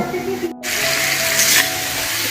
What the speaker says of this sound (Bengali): এদিকে আমি আলুটাকে ফ্রাই করে রাখছি